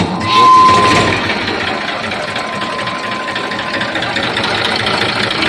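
A Massey Ferguson 7250 tractor engine idling, a loud, steady, close mechanical chatter that runs without a break.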